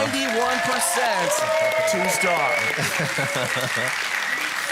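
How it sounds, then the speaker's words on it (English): A live crowd at a Clash of Clans esports event, with loud, dense applause and cheering that holds steady throughout. A commentator talks excitedly over the noise. "This crowd is going absolutely nuts as this attack finally ends."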